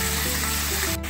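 Local chicken sizzles loudly in hot oil as it is stirred, a dense continuous crackle with soft scraping that briefly drops out near the end.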